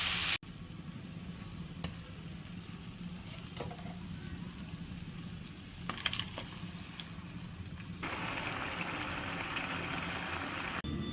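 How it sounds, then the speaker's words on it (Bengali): Prawns frying in a pan give a faint, continuous sizzle with occasional clinks and spatters, swelling a little louder toward the end. "সবগুলো মাছ দিয়ে নিছি, এখন ভালো করে ভেজে নিব।"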